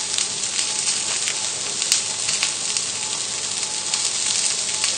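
Steak searing in a pan for a rosemary-butter steak tagliatelle, giving a steady, loud broadband sizzle with small pops and spits throughout, heard alone without talk.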